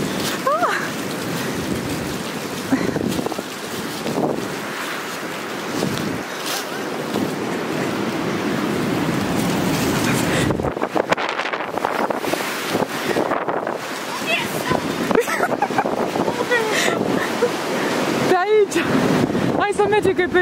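Strong wind blowing hard outdoors, a constant roaring rush with gusts buffeting the microphone for the whole stretch, loud and close, with no clear talk over it.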